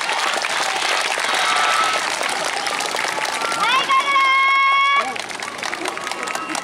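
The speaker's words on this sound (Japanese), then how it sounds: "皆様のご声援、手拍子が必要となります。" Audience at a yosakoi dance festival claps and cheers in a dense continuous burst of applause, with a loud crowd wash and a brief whistle-like tonal sound rising over it midway.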